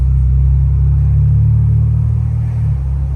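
A Ford Bronco with a 2.7L engine and Flowmaster exhaust, plus Roush intake, drives with a steady, loud, deep exhaust drone and rumble that holds nearly constant before easing slightly near the end; no talking.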